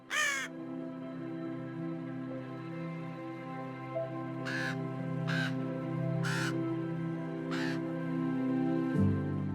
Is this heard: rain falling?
no